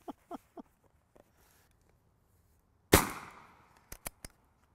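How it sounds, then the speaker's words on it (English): A suppressed AirForce TalonP air rifle fires one loud, sharp crack that rings out and decays over about a second, framed by a few faint clicks and handling sounds before and several short sharp clicks after. "everybody knows I'm shooting something now"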